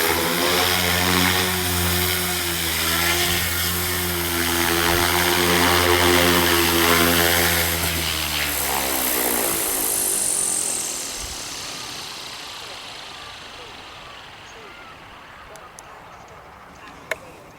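A radio-controlled helicopter hovers close with a loud, steady rotor and motor whine, then descends onto a landing pad and spins down into quiet outdoor ambience, ending with a small knock.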